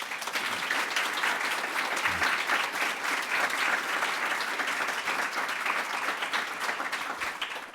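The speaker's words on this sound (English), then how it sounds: "Another round of applause, please." An audience applauding after an evening panel discussion at a speaker series event, dense steady clapping that fills the room for several seconds and tapers slightly at the close.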